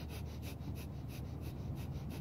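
Rapid rhythmic Kundalini yoga breath of fire, performed lying down with head and feet raised, comes as quick regular bursts of breathing about three per second, close and steady without talk.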